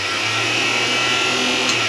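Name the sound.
propane stove range hood fan running with outside flap closed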